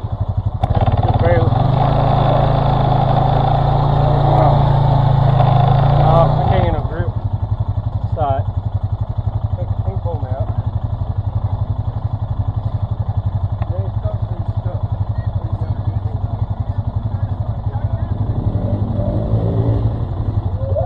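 A motorcycle engine runs close by, with a few quick throttle blips over a steady idle before it settles into a lumpy, pulsing idle; voices speak over it.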